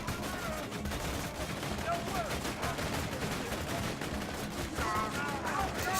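Dense, sustained gunfire from the video game Borderlands 2, a rapid steady rattle of shots with bursts layered over a busy combat din, loud and continuous with no voices.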